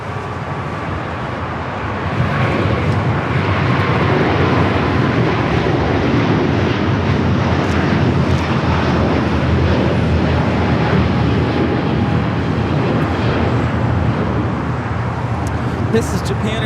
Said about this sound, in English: This is Japan Airlines Flight 15 taking off to Tokyo Haneda on the A350-1000.